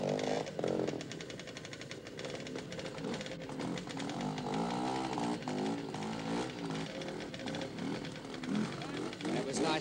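Bultaco trials motorcycle ridden at a 1971 trials event in Byford, Western Australia, its two-stroke engine buzzing and revving continuously at moderate distance, rising and falling with throttle, under occasional commentary.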